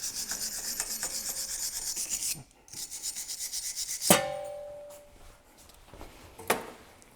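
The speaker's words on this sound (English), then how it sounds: "I'm going to just take a wire brush and get in where that couldn't" A wire brush scrubs a front brake hub on a 2012–2017 Toyota Camry, giving close, loud raspy strokes for a couple of seconds, then a sharp metallic clink followed by quieter intermittent scraping.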